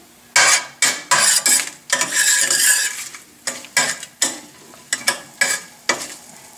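Bay leaf and peppers go into a cooking pot for a basic Indian gravy, with close, sizzling bursts and a series of sharp metal clinks and scrapes against the pot, without talk.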